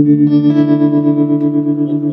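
An electric guitar chord sustains through a Fender Champion 100 amp with a fast tremolo effect, the volume pulsing rapidly and evenly like helicopter blades, loud and close.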